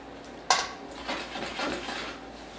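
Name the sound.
flipping an omelet in a pan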